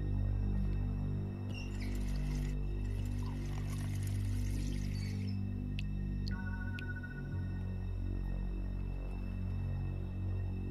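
Water pours from a kitchen tap in The Wolf Among Us game, a steady hiss running for several seconds alongside a low ambient hum and a couple of brief clicks, with no talk.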